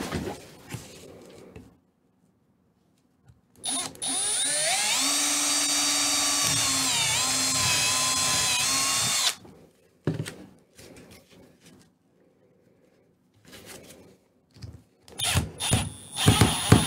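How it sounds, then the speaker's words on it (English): A power drill whines steadily for several seconds, pitch wavering as it bites into material, followed by short bursts and scraping handling noises. "drill it out though first"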